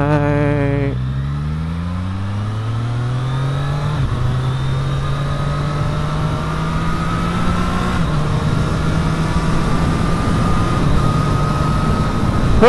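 Triumph Street Triple 765R motorcycle engine pulling hard close up, revs rising in steady steps as it shifts up through the gears, with clear breaks near four and eight seconds, rider's road run with no talk over it.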